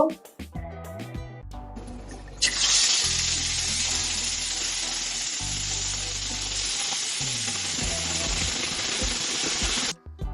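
Shrimp sizzle loudly in hot oil in a wok, a steady broad hiss from about the third second to the end, with stirring clatter and a melody playing underneath.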